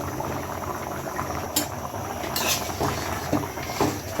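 Jute leaf curry with prawns and jackfruit seeds bubbles in a pot, a close steady simmering hiss broken by a few louder pops and bubble bursts.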